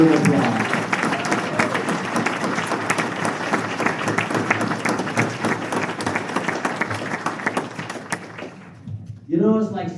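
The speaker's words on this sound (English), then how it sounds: "Please join me in a big round of applause" A big round of applause at a sports hall of fame induction ceremony honouring a family of athletes, dense crowd clapping filling most of the stretch, then fading out as a voice begins speaking near the end.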